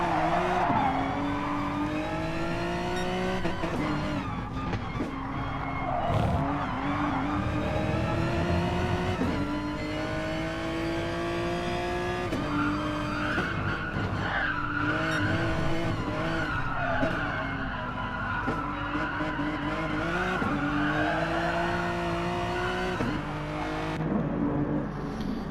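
Race cars at Brands Hatch heard from onboard one car: a steady, loud engine drone rising and falling through gear changes, with tyre skids, continuous and without speech.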